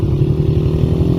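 A motorcycle engine runs at a motorcycle race fair, a close, loud, steady throbbing idle with a rapid pulsing beat over the whole short moment.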